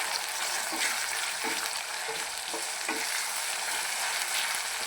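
Ground masala paste for a spicy soybean dish fries in a pan under a dense, constant sizzle, with a handful of soft, evenly spaced scraping strokes as it is stirred. No voices.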